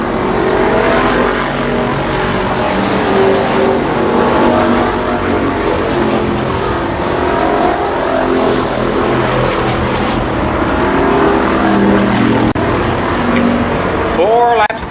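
IMCA Modified race cars at Columbus Motor Speedway, a loud continuous roar of engines droning and overlapping as the pack circles the track, with a rising whine near the end as a car passes close.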